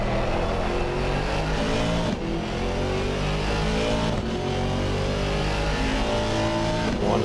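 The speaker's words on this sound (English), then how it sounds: "Love the sound of the V8 Vantage." Aston Martin V8 Vantage GT4 race car engine revving hard in Assetto Corsa Competizione at Circuit of the Americas, a loud continuous V8 drone rising through the gears with brief dips at each shift.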